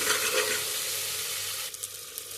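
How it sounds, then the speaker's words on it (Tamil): Salt, turmeric and a little chili powder are stirred through a sizzling pan, a steady loud frying hiss with scraping stirs and a few sharper clinks toward the end; no talking. "கிளறி விட்டுட்டு நல்லா கிளறி விட்டுக்கலாம்"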